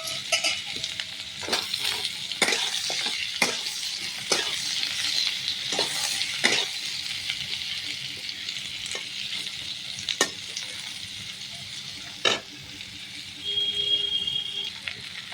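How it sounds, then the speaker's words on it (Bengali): Pieces of pointed gourd fry in oil with a continuous close sizzle, broken by repeated sharp spatula scrapes and taps against the pan. A faint voice is heard briefly under the frying. "পটলগুলো একটু ভেজে নিই"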